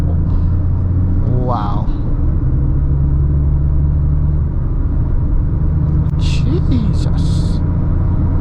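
A Peugeot 2008 accelerates, its engine a steady low rumble heard from inside the cabin while a person exclaims briefly over it.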